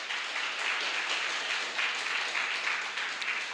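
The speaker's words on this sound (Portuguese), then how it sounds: "Vamos aplaudir o Senhor Jesus." A church congregation claps in a continuous, even wash of applause, moderately loud and with no talk over it.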